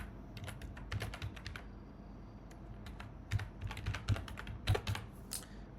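Quiet clicking of a computer keyboard as an email address is typed, irregular keystrokes in bursts with short pauses over a low background hum, no talking.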